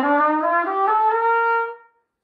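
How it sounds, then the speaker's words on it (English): A standard brass trumpet plays a bright, clear sustained phrase of a few notes close up, ending with a short fade into silence. "This is a standard trumpet that I'm sure you're probably familiar with."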